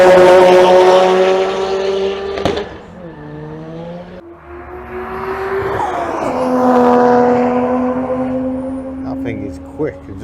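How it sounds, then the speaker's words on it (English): A Renault 5 Maxi Turbo race car at Goodwood Motor Circuit during the Retro Rides Weekender gives loud, buzzy engine notes. The revs climb, then drop with gear changes as it passes on track, with a pop near the middle. "There's Renault 5, Maxi Turbo."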